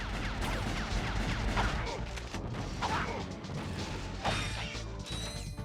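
Bolts being collected in the video game Ratchet & Clank, heard as a dense run of metallic clinks and clatters over combat crashes and mechanical noise, continuous for several seconds.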